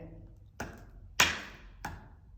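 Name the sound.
tapping noise on stairs outside dining room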